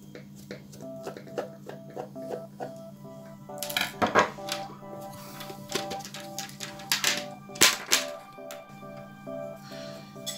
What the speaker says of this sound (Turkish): Pil yatağını açıyorsunuz ve içerisine 3 adet kalem pili yerleştiriyoruz arkadaşlar.